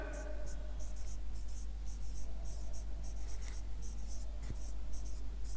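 Pen writing on paper during a fractions lesson: a steady run of short scratchy strokes, close and continuous, over a low constant hum.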